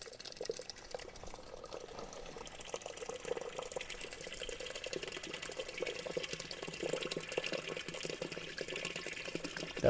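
Water from a 20-liter container pours steadily into a drainage pit dug for a box foundation, a continuous close splashing and gurgling rush that lasts throughout without pause.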